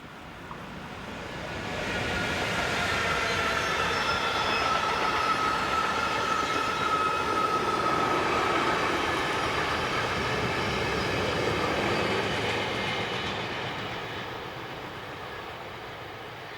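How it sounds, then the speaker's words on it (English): Locomotive 187117 hauls a mixed freight train, a steady rumbling roll of wagons that swells as it passes close and then slowly fades. "In the opposite direction is 187117 heading mixed freight EZ44962 from Linz in Austria to Gremberg Yard at Köln."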